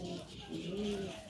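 Dobaj pigeons coo softly nearby, with a couple of low rolling coos rising out of a quiet background while a voice murmurs faintly.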